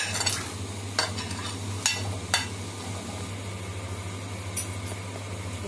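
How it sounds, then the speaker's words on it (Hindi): Chopped mango pieces tumble into cooled oil seasoned with asafoetida and get stirred for a quick pickle, with a few sharp clinks and scrapes of utensils over a steady low background hum. "अभी अच्छे से ठंडा हो गया है, हम ये सारे कटे हुए डाल देते हैं आम"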